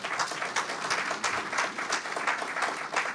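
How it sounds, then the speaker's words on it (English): At a State of the State address, an audience applauds the team, a moderate, even wash of clapping that swells and eases in soft waves, with no voices breaking through. "Give yourselves a round of applause, team."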